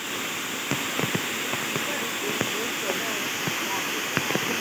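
A forest waterfall roars in a steady, dense wash of falling water, with faint clicks and voices buried beneath the constant rush.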